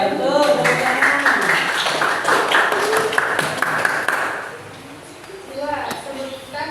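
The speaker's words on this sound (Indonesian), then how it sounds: "Oke, betul, tepuk tangan." Classroom applause from students, a brief burst of mixed claps with voices and chatter mixed in, tapering off before talking resumes near the end.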